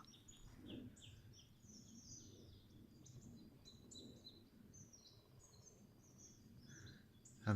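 Small birds chirp and tweet high overhead in a quiet forest, with a woodpecker among them, soft rustling and low background rumble throughout.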